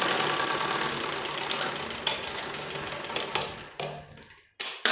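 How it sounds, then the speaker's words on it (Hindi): An interlock (overlock) sewing machine stitches a sleeve seam, running with a steady rapid mechanical whir that stutters and pauses near the end as the fabric is guided, close and alone. "इस तरीके से अब सबसे पहले हम यहाँ पर इंटरलॉक करेंगे"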